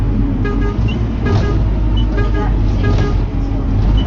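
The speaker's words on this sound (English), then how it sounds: "I thought it would be funny if I kept honking the horn." A bus horn in a Roblox bus simulator game toots repeatedly in short blasts over a loud, steady engine and road drone while a voice talks underneath.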